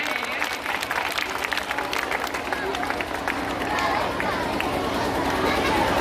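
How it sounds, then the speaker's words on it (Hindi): An audience at a school project exhibition fair applauds to welcome the displays, steady dense clapping from a large crowd with some murmuring throughout. "तालियों से स्वागत कीजिए।"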